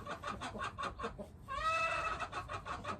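Hens in an East African village clucking in quick rhythmic bursts nearby, with a longer drawn-out cackle in the middle, fairly quiet and without talk.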